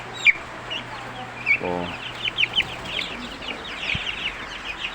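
Broiler chickens on day seven make soft, scattered clucks and short chirps in a pen, with a duck among them. A brief rasping call stands out early on, and a single quiet exclamation is heard.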